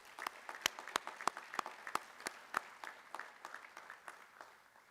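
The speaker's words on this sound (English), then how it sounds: "Give yourself a round of applause." A small audience at an athletic hall of fame induction ceremony claps in scattered, distinct hand claps that thin out and fade over a few seconds, quiet and somewhat distant.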